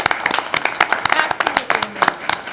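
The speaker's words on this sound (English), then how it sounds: "let's give her a round of applause" Brief burst of dense clapping from a seated board of education meeting crowd honoring a student contest winner, loud and close, with a voice briefly over it.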